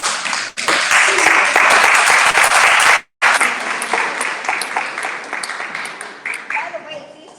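Clapping from an audience gathered at a public library talk, loud and dense, broken by a brief silent gap and resuming less evenly afterward, with voices mixed in toward the end.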